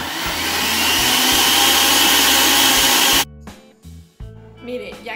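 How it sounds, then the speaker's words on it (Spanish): A kitchen blender roars loud and steady while grinding seasoning with a cup of water for white rice, then cuts off abruptly, leaving a few clatters and faint background music. "Y vamos a licuar."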